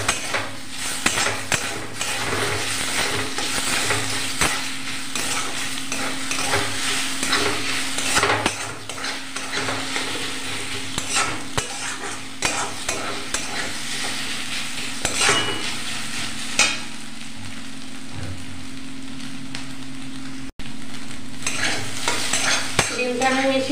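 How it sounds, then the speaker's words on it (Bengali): Beaten egg is stirred in a hot pan, a busy stream of utensil scrapes and taps over a steady frying sizzle, close and continuous, with one brief dropout near the end. "এবার নাড়াচাড়া দিয়ে নেব ডিমটাকে"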